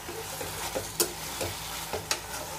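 Beetroot halwa thickening with ghee in a pan, stirred in a few distinct scraping strokes over a soft steady sizzle, close and fairly quiet.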